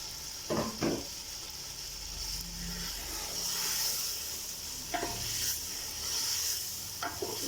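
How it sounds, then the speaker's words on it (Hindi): Meat sizzles steadily in a handi for daal gosht as tomatoes are added, with a constant frying hiss and a few sharp stirring knocks against the pot. "अब इसमें टमाटर डालने लगी हूँ।"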